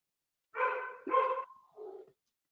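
A dog at home gives two short, close barks that run straight into each other, then a softer, lower yelp, with silence before and after.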